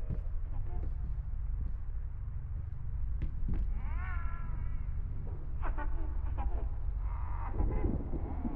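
A cat meowing in the horror game Layers of Fear, several drawn-out, wavering meows and caterwauls over a low, steady droning rumble, heard with no talk.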